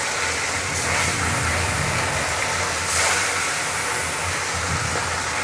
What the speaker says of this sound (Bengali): আমার তেল গরম হয়েছে, এখন আমি মাছগুলো দিয়ে ভালোভাবে ভেজে নেব।